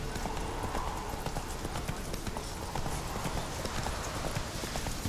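Horses' hooves clip-clopping steadily on the ground in The Witcher 3: Wild Hunt video game, a continuous rhythmic trotting under dense, noisy in-game ambience.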